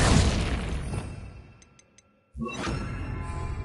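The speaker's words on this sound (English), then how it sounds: "Glacius." A Glacius spell cast in Hogwarts Legacy, a loud burst that fades away, followed by three tiny tinkling ticks, a brief silence, then a sudden icy crack and burst of spray that lingers.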